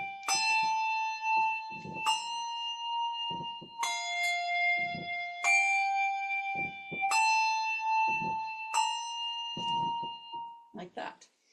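Handbells rung in a weaving pattern strike clear, sustained tones one after another at a steady pace of about two seconds each, alternating pitches with long ringing decay, while a person talks quietly underneath.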